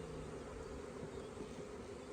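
A swarm of honey bees around comb in a tree makes a faint, steady buzzing hum with no pauses or voices.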